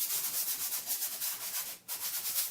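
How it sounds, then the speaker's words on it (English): A drywall patch is lightly hand sanded, giving a soft, steady rasping scrub in quick back-and-forth strokes, close and quiet, with one brief pause near the end. "Just give it a nice light sanding to make it smooth and start fresh."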